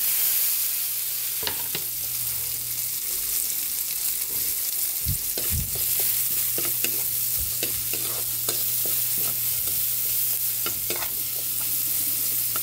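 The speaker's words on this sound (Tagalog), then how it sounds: "Lagay na natin yung ating sibuyas," Onion frying in a pan, sizzling steadily with a constant hiss while a utensil stirs it, giving intermittent scraping and clinking taps over a low hum.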